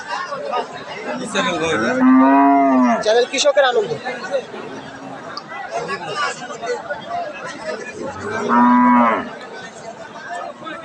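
Cattle, including thin cows, moo loudly at a busy village livestock market in Dinajpur, with two long drawn-out calls rising over a constant crowd chatter and someone talking nearby.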